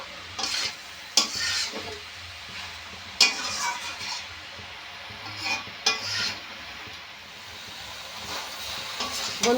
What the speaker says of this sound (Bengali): মশলার সঙ্গে কপি বেশ ভালো করে কষে নিয়েছি